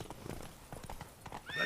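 Roach, a horse in the Witcher 3 video game, gallops with rapid clip-clop hoofbeats and a whinny near the end, close and fairly loud with no talk.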